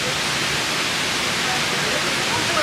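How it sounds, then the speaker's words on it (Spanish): A river beside a countryside restaurant near Puerto Vallarta rushes in a dense, loud, continuous wash of water noise with no other sounds standing out. "te puedes quedar dormido a gusto, contemplando el sonido del río"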